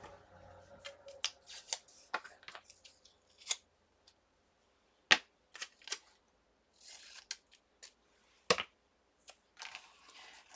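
Scissors cut paper for a Christmas folio notebook with a doily theme. Sparse, sharp snips and light paper rustles sit close and quiet, separated by stretches of near silence.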